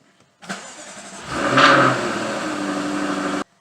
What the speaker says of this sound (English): I'm comfortable enough to go ahead and start the car and let it run for just a couple of minutes